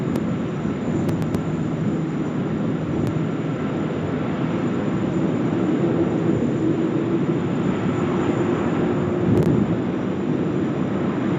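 A Garuda airliner rolling for takeoff from runway 16 left at Sydney Airport, heard from a distance as a steady, low broadband engine roar that holds even and continuous.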